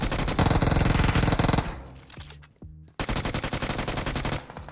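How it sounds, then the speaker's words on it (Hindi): Loud, dense automatic gunfire from a gunfight in the video game BGMI, with rapid bursts that break off briefly and then resume in a fast, continuous rattle. "गन फाइट के साउंड तुम लोग को आ ही गए होंगे"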